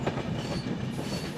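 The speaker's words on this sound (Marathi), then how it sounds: "दुपार झाली तरी आम्ही अजून ट्रेनमध्येच आहे." Heard from on board a passenger train on a Konkan journey, the steady rumble and rattle of wheels on the rails fills the short stretch, loud and close, with no talking.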